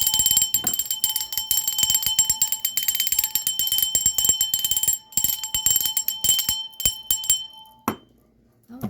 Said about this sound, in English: please be aware I am about to ring the bell